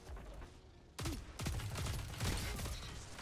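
Rapid bursts of exotic pulse rifle fire in Destiny 2, loud and close, cracking in quick three-round succession after a brief quieter moment, with no talking.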